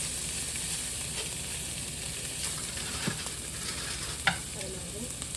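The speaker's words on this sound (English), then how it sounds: "We're just gonna get a sear on both sides of here." Strips of Wagyu A5 beef searing in a hot pan give a dense, even sizzle that runs throughout, with a couple of faint utensil taps and no voices.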